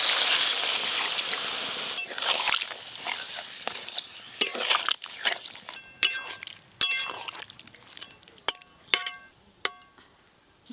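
Water is poured into a pan of fish curry with fried potatoes, pointed gourd and prawns. A brief hiss of liquid is followed by sparse clinks and stirring taps against the cookware, close and fairly quiet.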